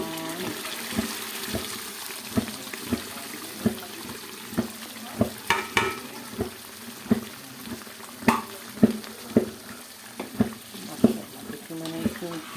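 Mustard greens for desi sarson ka saag stirred and frying in a kadhai, with repeated scraping strokes of a spoon at a steady rhythm over a soft sizzle, close by, with no talk.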